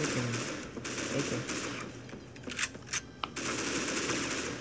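Bursts of automatic AK rifle fire in the Critical Ops mobile shooter, loud, rapid and repeated, with short pauses between volleys and a few sharper single shots in the middle.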